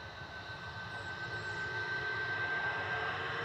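A Ryanair airliner departing Manchester Airport for Girona produces a faint, distant, steady jet roar with a thin high whine running through it.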